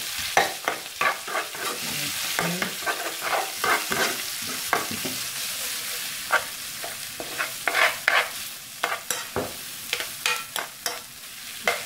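Curry for biryani is stirred as it fries in a pan: a steady soft sizzle with repeated scraping strokes of a utensil against the pan, uneven in rhythm, fairly quiet and close, with no voices.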